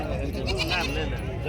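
Goats bleat on a goat farm in Dera Ghazi Khan where nannies are kept with their kids, the calls rising out of a busy, steady background with voices mixed in.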